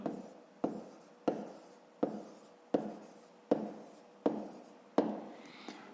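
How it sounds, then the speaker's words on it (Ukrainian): Handwriting an answer for a fifth-grade math exercise: eight sharp, evenly spaced taps of pen on paper, each followed by a short scratchy stroke, close and quiet, with no talk. "Пишемо відповідь"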